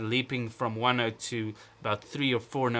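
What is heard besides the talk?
No everyday noises stand out.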